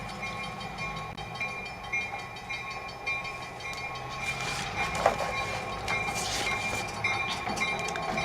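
A train rolls past, rail noise and wheel clatter sustained steadily throughout at a moderate level, with brief high squeal-like tones near the middle and no talking.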